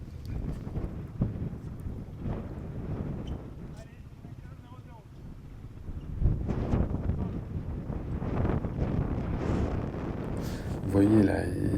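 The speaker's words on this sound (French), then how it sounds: "voyez là, il y a vraiment du vent." Strong wind buffets the microphone on an outdoor tennis court during a tournament match, a rough, gusting rumble that swells and fades, with voices briefly heard over it.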